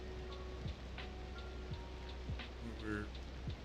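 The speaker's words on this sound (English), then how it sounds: "Oh, it's raining now." Rain falls in a city-building game as a soft, steady hiss under faint background sounds, with light drop patter spread throughout.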